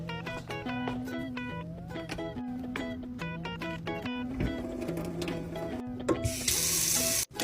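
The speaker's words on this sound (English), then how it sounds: "Can I go fill up my water bottle in the hall?" Near the end, a water tap in a school hallway rushes into a water bottle in a short, bright burst of flowing water. Before it, music plays continuously.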